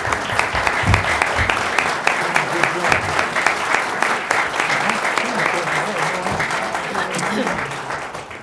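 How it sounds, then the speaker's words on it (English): Sustained applause from a crowd at a city council candidate forum, steady clapping filling the whole stretch with a few sharper claps standing out. "I'd like to hear a round of applause for the candidates."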